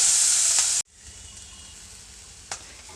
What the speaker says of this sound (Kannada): ಈರುಳ್ಳಿ ಎಣ್ಣೆಯಲ್ಲಿ ಚೆನ್ನಾಗಿ ಫ್ರೈ ಆಗಿದೆ